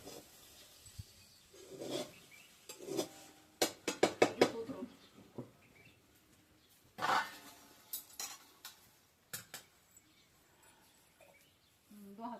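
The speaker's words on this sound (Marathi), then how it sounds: "आता भाजले चांगले पोहे, तर एकदा हलवून उतरून घेऊ" Roasted poha being stirred in a pan at home, with scattered scrapes and light metallic clinks of a spoon against the pan, faint and irregular, while people talk nearby.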